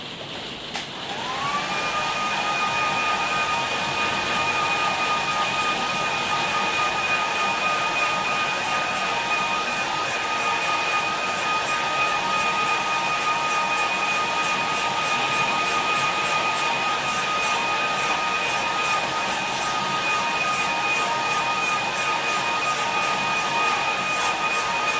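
A hair dryer blows on a watercolour painting, a steady airy roar with a high whine that settles in after a second and holds unbroken for the whole stretch, close and alone.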